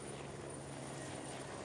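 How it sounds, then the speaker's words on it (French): A heavy water-bombing firefighting helicopter gives a continuous, even rotor and engine roar, steady and fairly distant, filling the whole stretch with no break. "l'hélicoptère bombardier lourd largue de l'eau."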